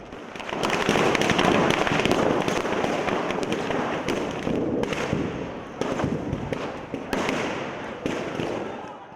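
Firecrackers and fireworks burst again and again during the Karthigai Deepam festival in Chennai, with dense crackling and sharp bangs that continue without a break and peak in several loud spikes.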